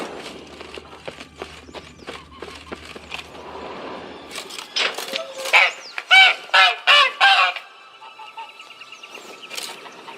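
A caged goose-like bird in The Witcher 3 Wild Hunt honks in a burst of four or five loud, close nasal calls, after a run of softer clicks and rustles, with no one talking.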